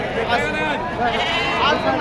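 Sheep bleating in a crowded livestock market, wavering cries mixed into a continuous din of chatter and voices close by.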